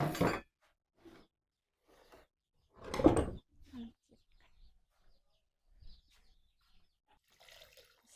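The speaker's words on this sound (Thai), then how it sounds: "เทน้ำลงไปใส่ครกเลยนะทุกคน" Water splashes into a mortar in two short pours, with faint clinks and small quiet sounds in between.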